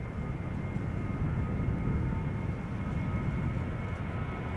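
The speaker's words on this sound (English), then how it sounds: "This is KLM flight 927 to Edinburgh, 737-800." KLM Boeing 737-800 jet, 16 years old, departing Amsterdam Schiphol Airport for Edinburgh, a steady low engine roar held at even loudness across the whole stretch, with no voices.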